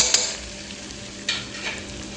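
Sambal bawang being stirred with salt, sugar and powdered stock in a frying pan, a steady close sizzle with a few louder scraping strokes of the spoon.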